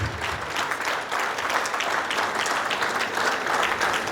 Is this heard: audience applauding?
yes